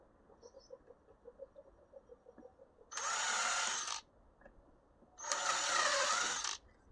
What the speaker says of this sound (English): I'm going to pre-drill some holes